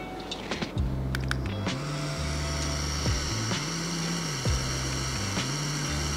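A Xiaomi Q5 Pro electric face mask fan running at level 1 gives a steady, close motor whir with a low hum that wavers in pitch, plus a few faint clicks and rustles near the start.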